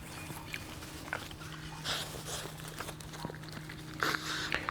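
A small rescued puppy named Nugget eats small broken treats from a person's hand indoors, with faint close chewing, soft snorts and shuffling, quiet and intermittent.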